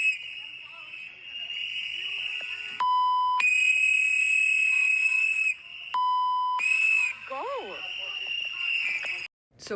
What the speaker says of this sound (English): the two women are blowing whistles and standing at Ice's door